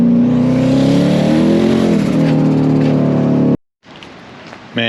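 A twin-turbo C5 Corvette engine roars and revs hard while accelerating, heard from inside, then cuts off abruptly into a softer rushing noise.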